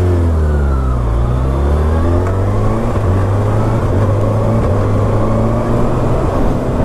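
A 2019 Kawasaki ZX-6R supersport motorcycle on a test ride, its engine running loud and close with rising and falling revs as the gears climb through the whole stretch, and no talking.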